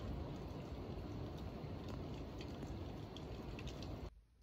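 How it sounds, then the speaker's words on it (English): Rain heard from indoors: a soft, even patter of drops with occasional sharper ticks, faint and steady, cutting off abruptly near the end. "Quite like the sound of the rain, it's relaxing."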